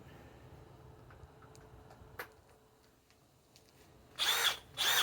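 A Harbor Freight Hercules 1200 inch-pound cordless drill driver runs in two short loud bursts near the end, after quieter ticking and handling noises over a low background hum.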